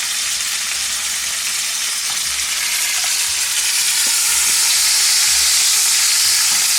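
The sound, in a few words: beef frying in a pan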